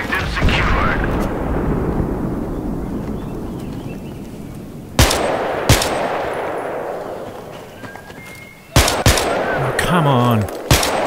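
Snipers fire from distance in a squad shooter: sharp, loud cracks arrive separately at about five, six and nine seconds over rumbling ambience, and someone speaks briefly between shots.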